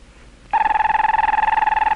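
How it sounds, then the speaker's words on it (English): A telephone bell ringing through a loudspeaker in a farm yard, a 1960 Bell System setup: after a half-second of quiet, a loud, continuous warbling ring with rapid trilling pulses starts and runs to the end. "She hears the phone ring from the loudspeaker in the yard and goes to the house to answer the phone."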